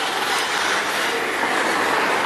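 An MRS freight train begins climbing the Canguera ramp, helped by Rumo locomotives, producing a loud, continuous, dense rumble and rolling wheel noise close by, with no voices.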